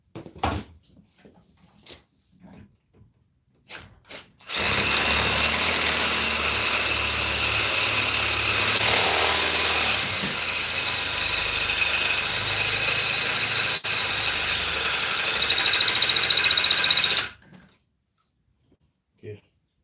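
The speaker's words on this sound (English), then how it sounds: "For me, I'm gonna drill." A power drill bores into metal during a brake job on a 2008 Hyundai Veracruz, a loud continuous whirring grind running about thirteen seconds close to the microphone, with a few brief clicks before it starts.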